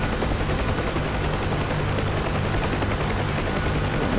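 A Bell UH-1 Huey helicopter in the DCS combat flight simulator during a river assault, a loud, continuous rotor and turbine drone with a low pulsing hum throughout.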